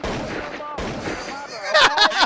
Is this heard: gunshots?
yes